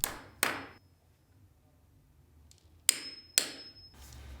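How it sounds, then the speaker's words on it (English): A hammer strikes a hardwood floorboard being nailed and punched over concrete: two sharp metallic blows, a pause, then two more, each ringing briefly in a quiet room. "Using the string line as a guide, nail and punch the first board."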